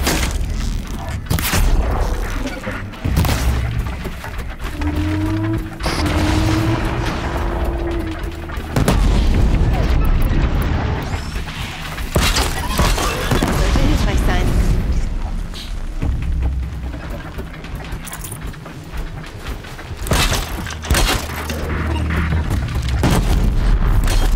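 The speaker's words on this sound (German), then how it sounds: "die Dinger explodieren noch ein bisschen stärker" Repeated heavy booms and blasts from machine explosions in the video game Horizon Zero Dawn, loud and close, over a rumbling mix of effects with a brief rising whine midway.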